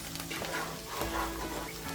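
Mushrooms frying in a pan while steak Diane supper is cooked at home, giving a steady close sizzle with a soft crackle throughout, no talking.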